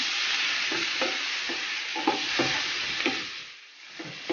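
Shrimp and prawns sauté in a pan with toasted garlic and ginger for a buttered garlic seafood dish, a loud continuous sizzle broken by scraping stirs every half second or so.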